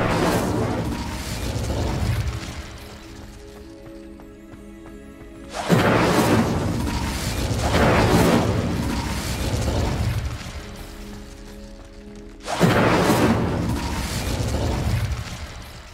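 Fire spell cast in the video game Hogwarts Legacy, heard as loud bursting whooshes that erupt at about 5.5 and 12.5 seconds over a steady rumbling game backdrop.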